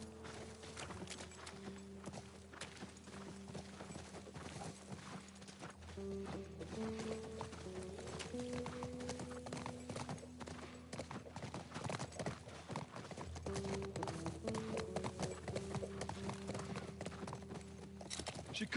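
Horse hooves clip-clopping in The Last of Us remake video game, a steady walking rhythm at moderate distance, mixed with game music and background sound.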